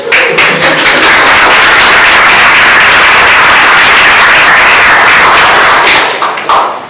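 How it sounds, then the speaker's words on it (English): Loud, dense clapping from an audience at a young entrepreneurs academy graduation, sharp individual claps at the start merging into a sustained roar of applause that tapers off at the end. "I didn't ask you to clap."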